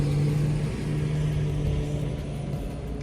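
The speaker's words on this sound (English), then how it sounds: "This truck is going by" A truck drives by close to a parked Ram 1500 Hemi, a loud steady engine rumble with a low hum that eases slightly as it passes, with no talking.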